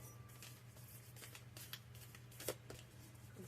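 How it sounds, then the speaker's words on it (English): Octagon-shaped oracle cards are shuffled by hand close up, producing quiet rapid riffling and papery flicks with an occasional sharper snap, over a low steady hum. "These are the most awkward cards to shuffle because they are this octagon shape."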